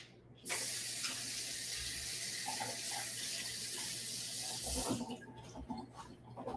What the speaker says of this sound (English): Let me rinse my fork off.